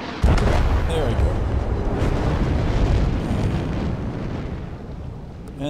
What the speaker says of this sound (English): And the explosions were all mine.